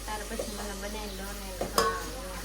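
Onions sizzling in hot oil as they fry for pasta, a steady close crackle with brief stirring scrapes and a pan clink, with a voice faintly present.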